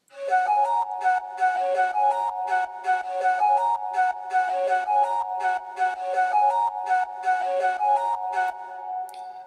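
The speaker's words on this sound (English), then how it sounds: "I have this little flute sound in the background" Soloed synth flute line from an electronic drop, playing a repeating melodic phrase of short bright notes with a steady pulsing rhythm, clear and alone with no voices.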